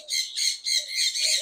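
A Chinese hwamei songbird calls at a bird farm with a run of harsh, repeated squawking notes in a quick, steady pulse, close and loud.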